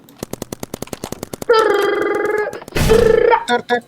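Rapid gunfire from the Roblox game Big Paintball, a fast run of sharp shots followed by loud sustained electronic tones, with a few more quick shots at the end.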